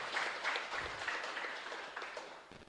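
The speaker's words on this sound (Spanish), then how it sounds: "Vamos a dar también un fuerte aplauso." Audience applause at a Catholic Mass during a novena in a chapel in Luque, a steady wash of clapping held at an even level throughout, with no talk over it.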